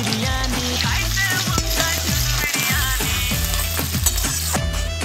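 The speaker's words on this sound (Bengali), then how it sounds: "পেঁয়াজগুলোকে ভালো করে লাল করে ভেজে নিতে হবে" Sliced onions fry in hot oil in a wok for chicken biryani, giving a steady, close sizzle that runs throughout with musical tones over it.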